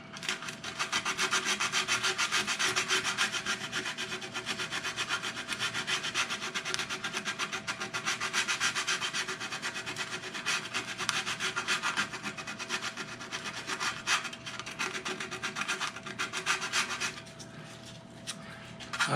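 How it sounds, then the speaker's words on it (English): Wenge wood guitar side brace being sanded by hand with 80 grit sandpaper, a continuous close rhythmic scratching rub with steady back-and-forth strokes that tapers off near the end, no talking. "I'm going to go ahead and sand that out"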